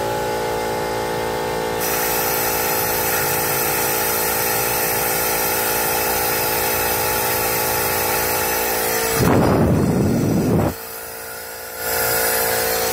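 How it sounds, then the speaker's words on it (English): A 1989 Chevrolet Suburban air-conditioning compressor running steadily in the background, a continuous loud mechanical drone and whine with a brief harsher surge near the end. "And you can hear the compressor in the background."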